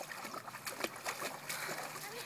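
A small child splashes in water during a first summer swim. Soft, quiet slaps and sloshes arrive in irregular bursts, with voices talking nearby.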